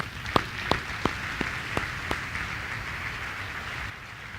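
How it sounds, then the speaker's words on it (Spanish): Congregation clapping during a sermon, a handful of sharp distinct claps in an even rhythm over a soft wash of scattered applause, fading after a few seconds. "Esta historia merece un aplauso."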